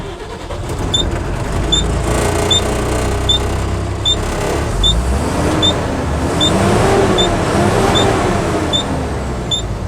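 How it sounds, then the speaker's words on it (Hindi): A truck with low pickup and lit warning lamps, including the check engine light, cranks and starts, then settles into a steady idle with regular rhythmic ticking chimes above, loud and close throughout. "अब गाड़ी एक बार स्टार्ट करते हैं"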